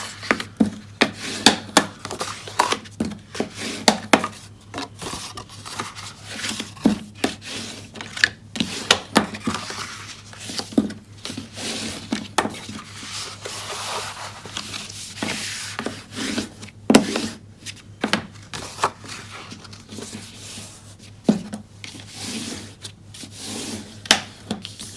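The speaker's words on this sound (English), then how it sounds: "we're going to fold and burnish on all those score lines. Let's do that really quickly using our bone folder" A bone folder rubs and burnishes along scored paper folds in quick, repeated scraping strokes, close up and fairly soft, with no voices.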